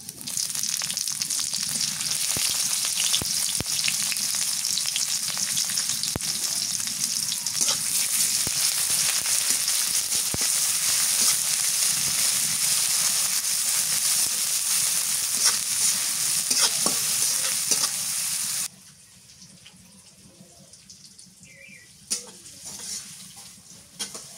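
Chopped onion sizzles in mustard oil with black cumin and whole cumin, a loud continuous close frying hiss with occasional stirring clicks that suddenly quiets to faint crackling near the end.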